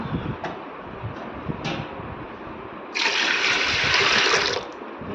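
Faint kitchen sounds, then water pours steadily onto washed split green gram (moong dal) in a vessel for about two seconds before stopping.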